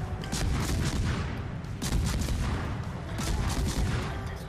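Dense, continuous rumble of Sherman tank cannon fire and battle noise in a forest skirmish, with repeated booms and crackling impacts layered over a heavy low roar.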